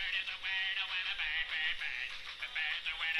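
A song plays from a cell phone speaker, thin and tinny, as a steady stream of music with no talking over it.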